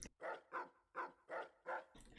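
A dog in the video game Fallout: New Vegas barks five times in a steady rhythm, each bark short and mid-pitched, fairly close but moderate in level, with no talk over them.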